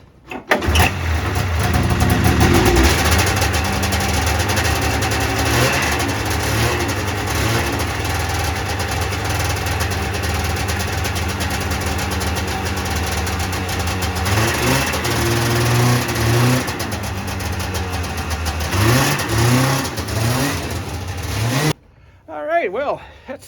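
An old John Deere snowmobile engine starts indoors, catches and runs loud and close, with repeated revving surges over a rough idle. A voice is briefly heard around it.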